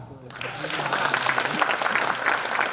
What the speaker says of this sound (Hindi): कमजोर तालियां हैं।